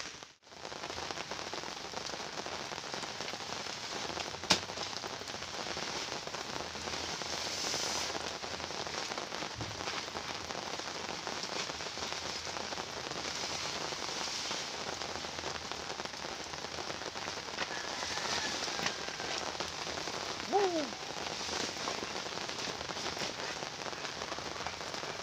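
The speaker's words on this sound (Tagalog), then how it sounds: "Hindi pa naman masyadong malakas yung ulan" Light rain falls steadily on surfaces outdoors, a continuous even patter throughout, close and moderately loud with no talking.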